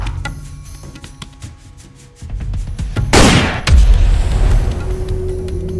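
A gunshot fired into the air during a tense confrontation bursts out as one loud, sharp crack with a rumbling tail, following a quieter stretch of room sound.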